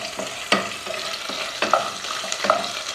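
Onions sautéing in a pan for pork adobo, a soft steady sizzle punctuated by several scraping, clinking strokes of a spatula against the pan, close up and without speech.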